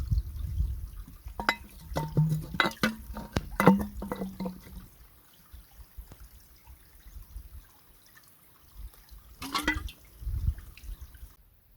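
Water bottles refilled from a mountain stream in Eryri give close gurgling pours and trickles in bursts, a quiet stretch of running water, then another short burst of splashing, with no voices.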